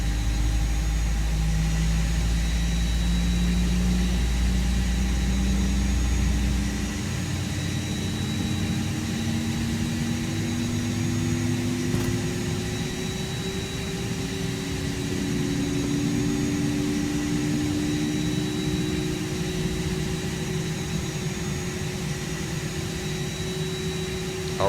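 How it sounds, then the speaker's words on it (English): Engine number 2 of an airliner in the X-Plane flight simulator spools up, starting with a steady low drone before a rising whine climbs over sustained tonal hums. The sound runs continuously for about twenty-five seconds with no talking. "Alright, and we have a good start on engine number 2."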